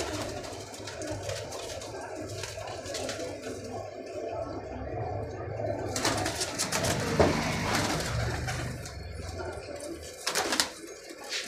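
Healthy pigeons kept for sale coo in soft, throaty bursts over a steady murmur of background noise, with a few louder rustles near the end.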